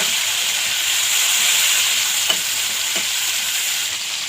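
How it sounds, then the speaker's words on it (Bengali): Whole cumin seeds, chopped onion and tomato fry in hot oil, producing a loud, continuous close sizzle and hiss with a couple of faint stirring taps and no voices. "এই তেলে দেখো একটুখানি গোটা জিরে ফোড়ন দিলাম, পেঁয়াজ কুচি, টমেটো কুচি"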